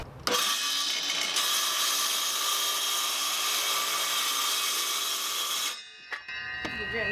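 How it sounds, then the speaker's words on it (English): Power tool cutting a wooden board off an old piece of furniture, a loud continuous high whine for about five seconds that stops abruptly, followed by brief knocks. "So watch as we get this cut off."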